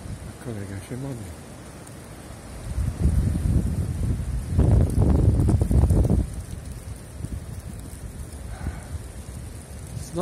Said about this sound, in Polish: Zaczyna padać deszcz.